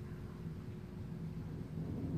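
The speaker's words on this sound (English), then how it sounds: "I saw the lightning strike." A low, continuous rumble of distant thunder after a lightning strike rolls on steadily during a storm under a tornado warning, with a faint hiss of rain underneath and no clear cracks.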